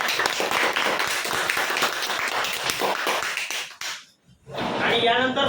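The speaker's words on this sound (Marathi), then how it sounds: "जोरदार टाळ्या वाजवा" Audience applause at a prize draw for Shree Ganesh Marketing, with dense claps over a loud crowd, a brief pause, then clapping resuming.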